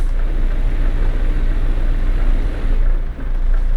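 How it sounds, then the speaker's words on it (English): Truck engine brake engaged while driving in Euro Truck Simulator 2, a loud steady low rumbling drone that holds constant with a brief dip near the end, no talking. "let's turn on a manual engine brake"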